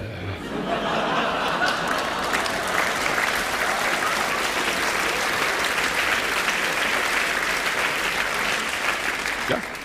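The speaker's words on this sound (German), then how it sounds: "da müssen wir klatschen" Audience at a German cabaret show breaks into sustained, full applause that starts abruptly and continues steadily, with a few chuckles and laughs mixed in.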